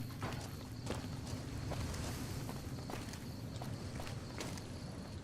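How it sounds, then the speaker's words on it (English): Footsteps in Fallout New Vegas, a steady series of soft, muffled thuds in an even walking rhythm over dense, rumbling background noise. "Jeez, I hear all these footsteps"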